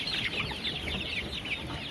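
Several roosters and chickens clucking together in a busy flock at feeding time, steady chattering calls with no voices, fairly close.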